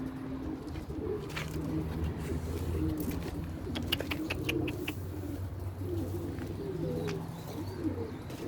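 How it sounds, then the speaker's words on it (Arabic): Flock of domestic pigeons, Basrawi white-tailed birds, cooing in steady overlapping low coos throughout, with a few brief chirps and light flutters mixed in, close and moderately loud. "شوفوا هن الطيور نصا يلعبن"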